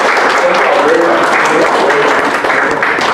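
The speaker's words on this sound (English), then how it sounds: "give all the staff at Coastal Bend College for being here, Mr. Ball, and everyone for a round of applause" A college audience at an information day breaks into a steady round of applause, dense clapping filling the room with faint voices mixed underneath.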